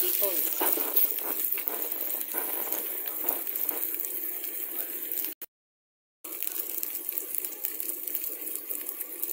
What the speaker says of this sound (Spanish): ya incorporamos los huevitos que se van a hacer revueltos